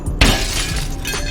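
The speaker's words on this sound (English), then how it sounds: "you can get out of there smashing the window with these bars" A car side window is smashed with the steel bars of a headrest: one sharp, loud shatter of glass followed by a second of crackling, settling fragments, heard up close.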